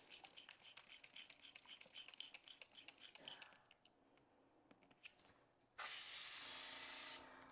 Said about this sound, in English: Let me clean the airbrush out really quick.